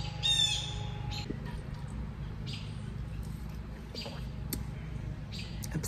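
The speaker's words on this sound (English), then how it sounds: "I'm competing with the birds a little bit too much out here." Birds squawk outdoors in short, sharp calls scattered over a steady background rumble, with a few bright chirps rising above the noise.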